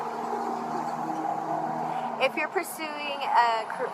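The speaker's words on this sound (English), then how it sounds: "wow, all of a sudden traffic picked up" Road traffic passing on a street, a steady wash of car noise with a few louder vehicles swishing by toward the end, while a voice speaks over it.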